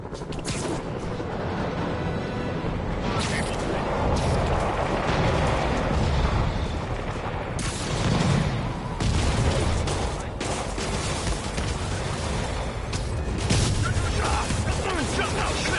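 Sustained gunfire and explosive booms in Marvel's Spider-Man on PS4, as demons fire on an APC. The shooting rolls on almost unbroken, loud and dense, under music and effects.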